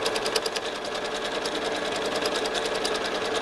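A sewing machine runs continuously while free-motion quilting a quilt, its fast, even needle rhythm close and loud throughout.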